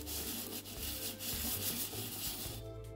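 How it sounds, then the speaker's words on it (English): Abrasive paper rubs a Beetle/Porsche 356 hub's metal face flat against a level surface, giving a steady, close gritty scraping in back-and-forth strokes with no talk. "using a flat surface and a bit of abrasive paper, I was actually lucky enough to be able to polish out that horrible divot line"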